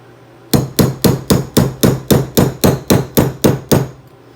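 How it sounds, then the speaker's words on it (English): Twelve sharp, evenly spaced hammer taps on a 1/16 punch drive out the hammer pin of a Ruger LCP II pistol, each strike loud and close with a short metallic ring, no talk. "We're going to take our 1/16, and from this side, from the right side of the hammer, we're going to drive out this pin."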